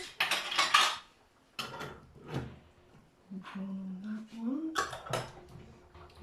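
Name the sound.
canning jar lids being handled from the draining board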